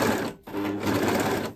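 Sewing machine edge-stitching through a single fabric layer backed with iron-on interfacing, sewing along the shoulder edge of a garment; a steady close mechanical whir with one brief pause partway through.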